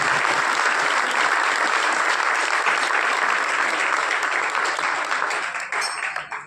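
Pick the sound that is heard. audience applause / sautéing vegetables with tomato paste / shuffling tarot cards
audience applause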